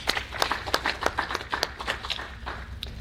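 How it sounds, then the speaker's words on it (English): An audience at a convention claps for an invited speaker, a modest round of scattered hand claps in a quick irregular rhythm that fades slightly toward the end, with no talking over it. "Please, let's give Dr. Moonzu a hand of applause."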